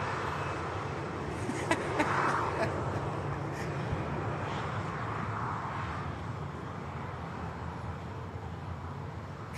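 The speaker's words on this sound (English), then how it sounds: "Qatar 350 on the taxi" A Qatar Airways Airbus A350 taxis at Manchester Airport, a steady distant jet engine rumble and whine with some broadband noise, heard at a distance.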